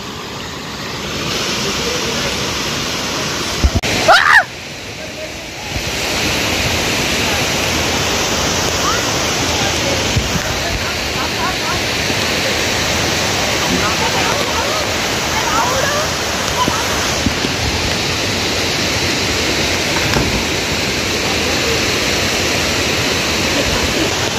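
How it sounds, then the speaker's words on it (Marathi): A swollen stream near Chiplun, Ratnagiri, running high after heavy monsoon rain, gives a loud, steady rushing roar close by that continues throughout, broken only by a brief bump of handling noise early on. "सकाळपेक्षा जास्त पाणी चढलंय आता"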